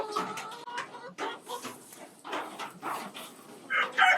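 Roosters in a chicken coop on a rainy day make several short clucks and calls close by, irregular bursts with brief pauses between them.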